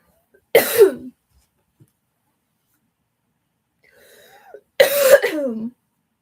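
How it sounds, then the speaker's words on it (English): Two harsh bursts of coughing, separated by a quiet pause and a faint vocal sound just before the second bout. "My cough got really bad."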